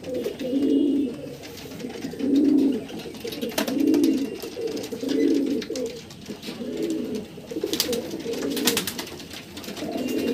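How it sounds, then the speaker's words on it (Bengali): Many pigeons in a loft coo repeatedly, with soft rounded calls coming in a steady rhythm about once a second, close and clear, joined by occasional faint rustles. "অনেক পায়রা আছে এখানে"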